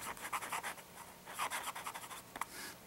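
A vintage Conklin flex-nib fountain pen scratches across paper in short, close strokes, a soft rhythmic scraping with brief pauses between letters and one sharper tick near the end.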